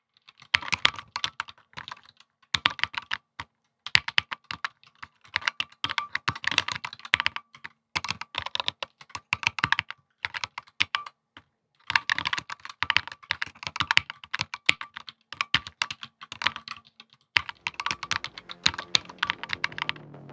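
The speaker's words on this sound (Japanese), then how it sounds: "実際の打鍵音を録音してみたので聞いてみてください。" Typing on a NAYA Create keyboard: steady, clacky keystrokes in quick bursts broken by short pauses, close and clear, with no voices.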